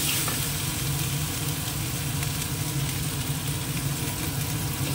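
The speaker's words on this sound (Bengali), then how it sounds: "এবার একটুখানি কষিয়ে নিয়ে এটাকে ভালো করে ভাজা করে নিই" Spices with chilli powder and turmeric frying in a pan, a loud, constant close-up sizzle with faint stirring and no pauses.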